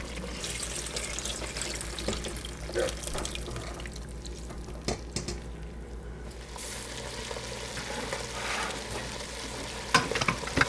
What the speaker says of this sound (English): So just brown your ground beef to get started, and then drain it off.